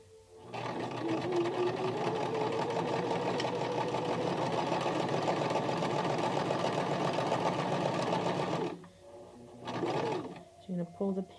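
A home sewing machine stitches elastic onto a fabric face mask in one long, steady, loud whirring run, stops, then gives a brief second burst with a few handling clicks.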